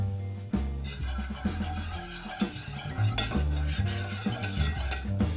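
Flour being stirred into melted butter to cook a roux, with a soft, steady sizzle under rhythmic, close scraping and the occasional clink of a utensil against the pan.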